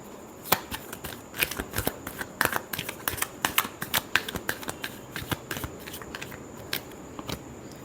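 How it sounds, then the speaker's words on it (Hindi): Tarot cards being shuffled, a rapid run of crisp riffling snaps and flicks in irregular bursts, close and fairly quiet, with no voices. "last shuffle"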